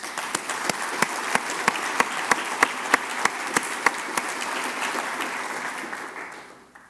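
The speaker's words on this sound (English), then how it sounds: "so let's give them a round of applause." Audience applause at a medical college graduation ceremony, a steady dense wash of clapping with a few sharper individual claps standing out, sustained for several seconds before fading away at the end.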